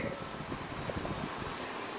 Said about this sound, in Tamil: இந்த ஃபேன் திரும்புகிற சத்தம் உங்கள் காதில் விழுந்துக்கிட்டு இருக்கு.